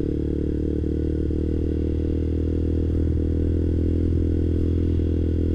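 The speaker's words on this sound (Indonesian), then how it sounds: "Nah kan motor jalan." Manual clutch motorcycle engine running steadily and loud up close, a constant low-pitched throb with slight rises in pitch as it pulls away, plus occasional light clicks and clatter.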